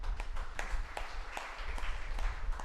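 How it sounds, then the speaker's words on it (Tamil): Audience applause at a Tamil Catholic sermon, a steady patter of many hands clapping together throughout, moderately loud and sustained, with no talk over it. "கைத்தட்டுங்க."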